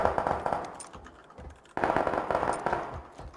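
Repeated AK rifle fire in PUBG crackles in two dense, fairly close bursts with a short lull between them, sharp rapid cracks over a rumbling background.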